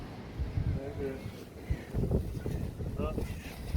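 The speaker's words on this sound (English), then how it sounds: "It's a bit difficult with the wind blowing" Wind buffeting a microphone on a seaside beach at Saltburn by the Sea: low rumbling gusts swell and drop irregularly under a person talking nearby.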